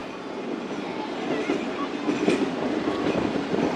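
Musapak shuttle train on the Multan to Dera Ghazi Khan line, rolling steadily around a curve toward Torsa Biraj station, its continuous rumble and rail clatter swelling slightly, with faint speech mixed in.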